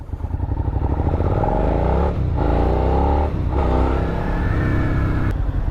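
Engine note of a 2017 Suzuki SV650 V-twin motorcycle pulling away on the road, loud and close, with rising revs through two gear changes marked by brief dips in power.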